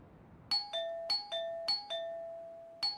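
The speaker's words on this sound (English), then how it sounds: "she is just spamming his doorbell." A doorbell is pressed again and again late at night, its bright two-tone chimes sounding five or six times in quick, uneven succession in a quiet room.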